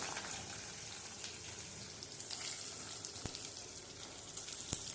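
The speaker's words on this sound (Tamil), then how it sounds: "நல்லா பொரியட்டும்." Curry leaves and onions frying in a pan, a steady, faint sizzle with a few sharp pops and crackles, close and continuous, with no talk.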